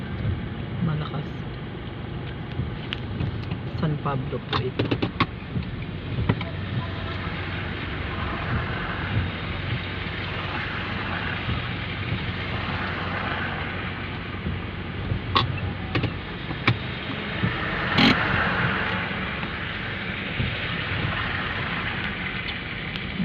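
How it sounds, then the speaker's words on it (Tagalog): Strong wind from Typhoon Nando roars steadily outdoors with gusts and buffeting, while a person talks briefly over it. "Yun ang lakas ng hangin."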